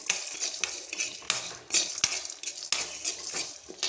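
Peanuts, urad dal, chana dal, cumin and sesame seeds being stirred in a hot pan, with repeated metallic scrapes and clatters of a spoon against the metal and a light rattle of dry grains, close and fairly loud.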